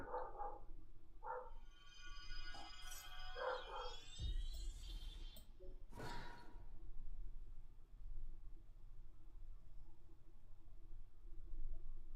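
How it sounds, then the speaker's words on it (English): A dog barks a few times from another room, faint and distant, followed by some thumps over a low steady background hum. "the dog is barking"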